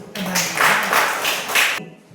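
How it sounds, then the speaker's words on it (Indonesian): A fifth-grade class claps together in a burst lasting under two seconds, moderately loud and close, then stops abruptly, during a Christian religious education lesson in Indonesia. "Kasih tepuk tangan dulu"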